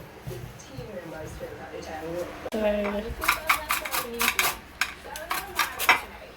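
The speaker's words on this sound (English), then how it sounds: "So we're zesting the lemons." Lemons are being zested for a Jamaican Christmas cake, the grater giving quick scraping rasps with metallic clinks against a bowl, while people talk over the work in a home kitchen.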